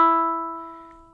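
Monochord string sounding at two-thirds of its length: a single plucked, bright harmonic tone that starts sharply and decays evenly over about a second.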